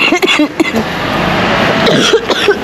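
Several short, harsh allergy coughs in quick bursts near the start and again toward the end, with a steady background hum between them.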